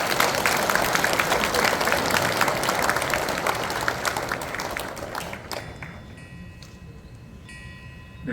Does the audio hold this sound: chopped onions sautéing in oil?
no